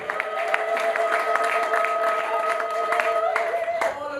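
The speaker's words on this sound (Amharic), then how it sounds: "አጨብጭቡ ለጌታ ክብር።" A church congregation claps steadily in praise during an Ethiopian sermon, many hands forming a dense, rhythmic patter over sustained keyboard tones, with a few voices mixed in.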